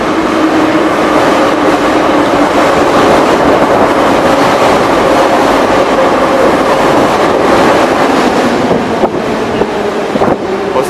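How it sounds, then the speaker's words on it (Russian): A Kyiv metro train arrives at the station, a loud steady rumble of wheels and motor with faint rhythmic rail clatter filling the whole stretch, no voices over it. "Вот мой поезд едет."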